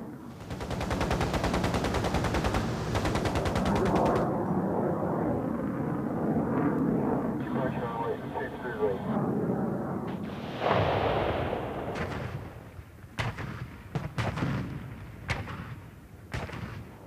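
F-8 Crusader diving on a ground target and firing Zuni rockets: loud jet roar with rapid rocket launch bursts, then a sharp blast and scattered cracks and pops fading.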